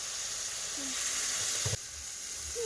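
Three pieces of fish sizzle in hot oil in a pan for a spicy fish curry. There is a continuous bright, hissing fry with a brief knock near the middle, close and fairly loud, with no talking.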